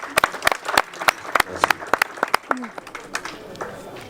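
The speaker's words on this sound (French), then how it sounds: "J'aimerais qu'on applaudisse très fort." Audience at a public event gives loud applause, sharp individual claps standing out in an irregular burst, with crowd voices and talk underneath.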